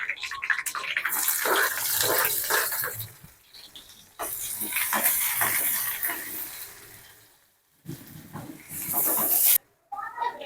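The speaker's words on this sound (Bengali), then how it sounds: "এরপর পেঁয়াজ কুচি দিব।" Chopped onion fries in hot mustard oil with cumin seeds, crackling and hissing in uneven bursts close by. There are a few short pauses, and one near-silent gap toward the end.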